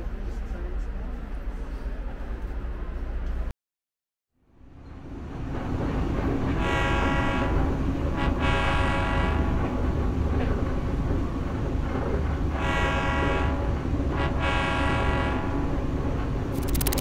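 A high-speed train running from Medina to Jeddah carries a steady interior rumble of wheels and rails, with repeated harmonic horn-like tones sounding over it after a brief silent cut.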